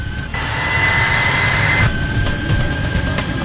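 Air France flight 296 airliner on its takeoff roll, a loud sustained engine roar with a steady high whine that rises and holds.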